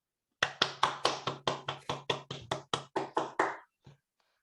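Round of applause after a lightning talk: about fifteen sharp, evenly spaced claps from a small group, near and crisp, ending with a couple of scattered late claps.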